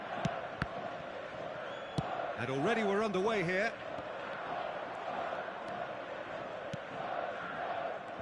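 In an eFootball 2025 match at Saitama Stadium, a steady broad crowd roar fills the background while a commentator talks over it, with a brief whistle-like tonal flourish and a few sharp knocks.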